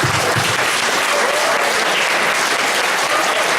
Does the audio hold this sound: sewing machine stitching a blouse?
no